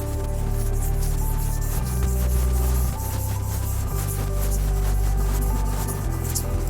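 A steel blade is rubbed in steady back-and-forth diagonal strokes across an 800 grit whetstone, giving close, rhythmic gritty scraping with brief shifts in pitch between strokes.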